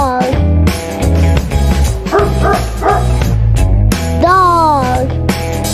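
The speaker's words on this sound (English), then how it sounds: "Dog." A dog barking loudly and close, repeated rapid barks and yips mixed with whining, howl-like calls, filling the whole stretch without talk.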